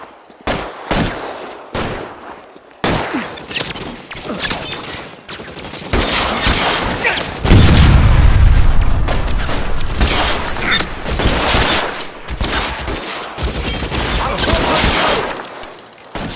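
Gunfire in the video game L.A. Noire, loud rapid bursts of shots that build into a dense, continuous fusillade with a heavy low boom partway through.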